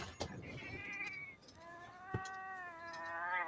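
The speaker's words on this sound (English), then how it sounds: "Oh, what is this cat?" A cat in the video game Monster Hunter Rise lets out two drawn-out, wavering meows, close and fairly loud, broken by a couple of sharp thuds from the surrounding game action.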